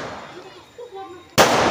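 A firecracker bursts during Laxmi Puja celebrations in a neighbourhood, one sharp loud crack near the end after quieter background chatter, with a voice speaking just before it.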